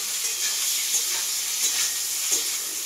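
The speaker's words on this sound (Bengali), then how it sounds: "প্রথমে আমি বেগুনটাকে ভাজবো" Eggplant frying in hot salted oil in a home kitchen, a steady bright sizzle with faint stirring scrapes, close and continuous with no talking.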